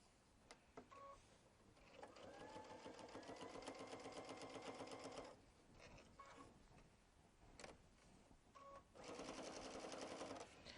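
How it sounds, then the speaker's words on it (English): A sewing machine stitches binding onto a quilted 3D flower panel in several loud, steady bursts, each run separated by short pauses, with a faint, sparse voice in the quiet gaps. "so I want to sew until I've got about that much left, and I'm going to engage my locking stitch."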